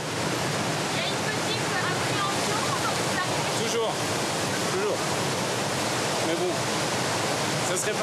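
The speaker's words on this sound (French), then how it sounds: "cette vague artificielle, créée par l'irrégularité du lit de la rivière" Artificial standing wave on a Bavarian river, formed by the uneven riverbed and used for surfing, roars as a steady, loud broadband rush of churning whitewater that holds constant throughout.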